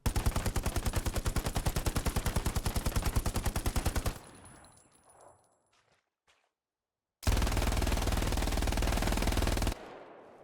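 Two machine guns from Hell Let Loose, an MG42 and a Browning, fire long sustained automatic bursts one after the other, loud and close. The first is a rapid ripping stream; a quiet gap with faint shell clinks separates it from the second burst.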